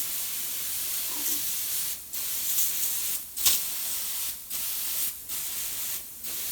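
An aerosol can of heavy starch sprays a baseball cap in a run of long, loud hissing bursts, each lasting about a second, separated by brief pauses, close by with no talking.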